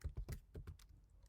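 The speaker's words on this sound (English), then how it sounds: "Okay, I need to type yes." A few quick keystrokes tap on a computer keyboard, about six close, quiet clicks in a short burst, then stillness.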